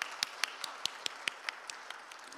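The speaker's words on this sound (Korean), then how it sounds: "여러분, 이만희 전 장관님께 다시 한번 박수 부탁드리겠습니다." An audience claps at a robot newspaper's 10th-anniversary celebration: a light, scattered round of applause with distinct, fairly evenly spaced claps, moderately distant and without talking.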